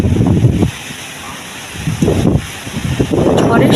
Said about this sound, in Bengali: শব্দটা শুনলেই বুঝতে পারা যাবে যে কতটা গতিবেগ নিয়ে ঝড়টা হচ্ছে